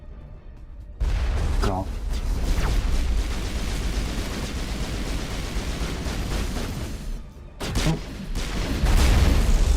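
Gunfire and explosions from a Mass Effect Legendary Edition firefight against husks rattle on loudly and continuously, with booming blasts and bursts of shooting under a player's shouted exclamations.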